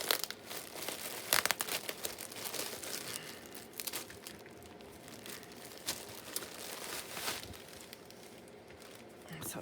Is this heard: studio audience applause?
no